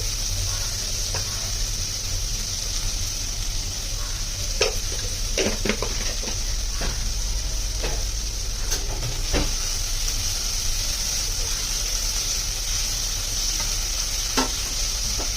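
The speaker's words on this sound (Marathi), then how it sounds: "आता हा कांदा चांगला लाल होऊन देऊया आपण." Chopped onion sizzles steadily in a hot pan, with the frying hiss running throughout while a spoon scrapes and clinks in irregular bursts as it is stirred, and no one speaks.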